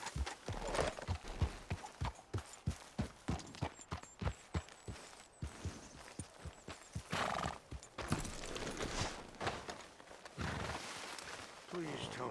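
A horse's hooves clip-clop steadily at a brisk pace in Red Dead Redemption 2, close and rhythmic, with a whinny and voices talking over the hoofbeats.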